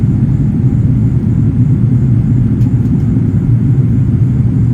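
Steady low rumble inside an airplane cabin as the aircraft banks into a turn while descending through clouds on a flight from America to Thailand, a constant dense drone with no voices.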